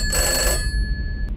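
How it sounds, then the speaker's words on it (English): An old-style telephone bell rings loudly in the PS1-style horror game Peter's House, one sharp metallic ring that cuts off and leaves a thin lingering tone, over a low rumbling background. "The telephone doesn't stop ringing."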